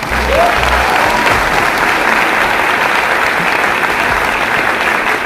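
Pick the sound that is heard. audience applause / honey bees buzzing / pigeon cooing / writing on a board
audience applause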